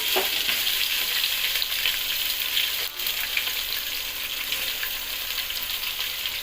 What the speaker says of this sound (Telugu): క్యారెట్ ముక్కలు, పచ్చిమిర్చి వేసుకోవాలి. వేసుకొని కలుపుకోవాలి.